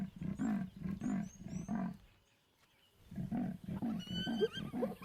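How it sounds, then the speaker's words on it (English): A male lion in the Timbavati bush calls with low, rasping grunts, a run of rhythmic deep pulses, a brief pause, then more calls while higher bird chirps sound faintly behind. "But his low rasping is drowned by some unruly sounds."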